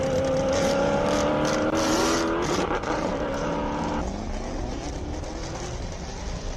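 A BMW Z4 race car launching at a hillclimb, its engine revving hard and loud up close, then pitch dropping as it pulls away and fades into the distance.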